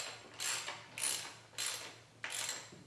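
A ratchet wrench tightens throttle body spacer bolts on a car engine, producing four quick, close bursts of rapid clicking evenly spaced over a few seconds with no talking.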